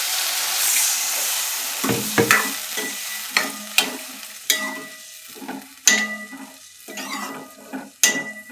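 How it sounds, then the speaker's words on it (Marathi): Onions and spring onion greens sautéed hard in a pan over a high gas flame, a steady sizzle broken by repeated sharp scrapes and clinks of a spoon stirring, close up with no talking. "छान परतून घेऊया मोठ्या गॅसवरती"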